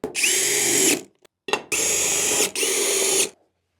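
Power drill driving bolts into an MDF furniture panel, three loud, close whirring bursts of about a second each, separated by brief pauses and small clicks, with no voices.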